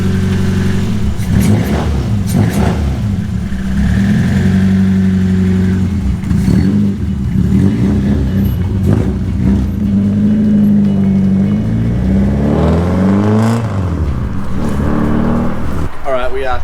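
A Toyota KE70 with a 4AGE engine drives and revs, the mid-pitched engine note rising and falling through several throttle blips under steady conversation inside the car.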